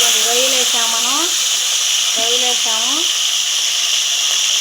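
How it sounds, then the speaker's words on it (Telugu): Tiger prawns fry in a pan for gongura pickle, giving a steady, even sizzle throughout while a voice briefly sounds twice over it. "రొయ్యలు వేసుకొని ఇట్లాగ వేయించుకోవాలండి."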